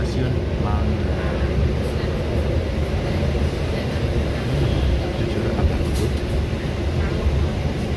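A KA Parahyangan train runs straight through Manggarai station at about 55 km/h, giving a loud, steady rumble and rattle of railcars throughout, with a voice speaking faintly beneath it.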